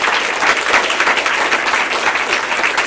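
An audience at an inspirational speaking event in Portland applauds caregivers, a loud, close, continuous burst of many hands clapping with slight rises and falls.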